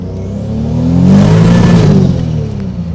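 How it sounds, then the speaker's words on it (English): A Toyota Supra with a 2JZ engine and Precision turbo accelerating hard with wheel spin: a close, loud engine rumble swelling to a peak and easing off over a few seconds. "That was wheel spin"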